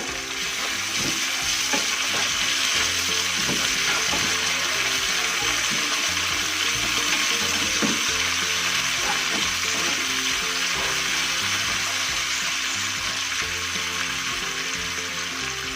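Chayote shoots are stir-fried with sesame oil in a pan, a loud, continuous sizzle that holds steady throughout, with scattered scraping and stirring knocks from a utensil.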